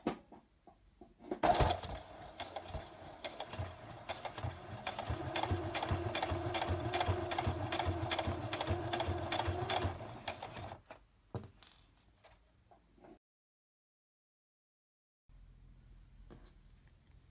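A sewing machine topstitching bias binding in a straight line runs steadily for about ten seconds with a fast rhythmic mechanical stitching chatter, then slows and stops, followed by quiet and faint handling sounds.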